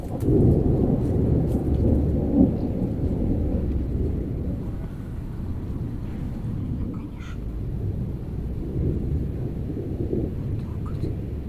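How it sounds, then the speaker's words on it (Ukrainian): Deep thunder rumbles continuously, low and rolling, with faint patter of large raindrops in the background and no clear break, heard outdoors in a vegetable garden. "Блискавки мигають, грім, горкотить безкінечно."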